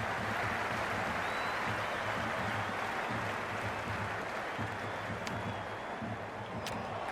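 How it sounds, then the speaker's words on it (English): A cricket stadium crowd in the Cricket 26 video game cheers and applauds in a continuous dense roar, steady and full throughout, with a faint whistle rising above it. "The crowd is electric right now."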